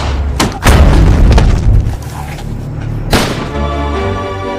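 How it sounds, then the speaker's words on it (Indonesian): Heavy booming gunshots and thuds from a mafia action film scene, loud and close, with several deep impacts clustered early and another sharp blast later over a rumbling, reverberant film mix. "Alvarez menyuruh orang kepercayaannya agar menembak Mark"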